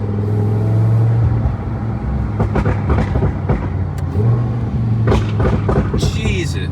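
Lamborghini Huracan Evo fitted with a Soul Performance exhaust, loud engine rumble with sharp pops and crackles bursting through, close up, with people talking over it.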